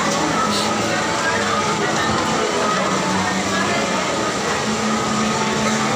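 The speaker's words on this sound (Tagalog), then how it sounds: "Sobrang lakas ng ulan sa labas, oh." Heavy rain pours down outside a mall in Tagbilaran, a dense, continuous wash of noise at steady loudness with no break, as a person talks faintly beneath it.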